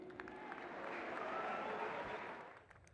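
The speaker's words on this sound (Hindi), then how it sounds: "तालियां चाहिए आप सभी की।" Crowd applause at the closing ceremony of a KPL 2025 cricket final in Kanpur, a broad steady wash of clapping that swells and holds before tapering off, with faint voices underneath.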